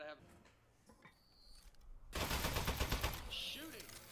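A turret in Aperture Desk Job opens fire in a sudden loud, rapid stream of shots that runs on for about two seconds, with a voice talking around it.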